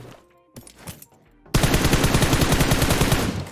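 A submachine gun in PUBG Mobile fires a loud, steady automatic burst of evenly spaced rapid shots that runs for about two seconds after a few quieter game sounds.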